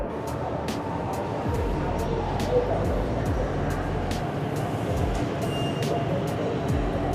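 Subway train ride in China: a steady, fairly quiet rumble of a moving metro car with soft rattling and wheel noise, continuous throughout, under faint background voices.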